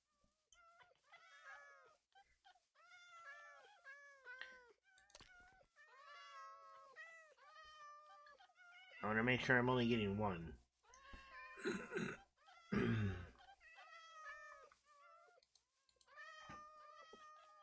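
Several cats meow repeatedly in Minecraft, high short calls scattered through the clip, with a louder caterwaul-like burst near the middle, while someone talks over them.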